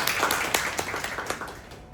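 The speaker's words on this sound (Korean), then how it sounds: "박수 한번 부탁드리겠습니다" A short burst of scattered hand clapping from a small meetup audience after a presentation, brisk and fairly close, fading out after about two seconds.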